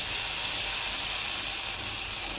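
Hot tempering poured into coconut chutney sizzles as a steady, loud broadband hiss that holds evenly from start to finish, with no voices over it.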